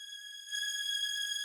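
A steady, high synth tension string tone with bright harmonics, from a UK garage track, holds without a break, swelling slightly louder partway through, with no other sounds around it.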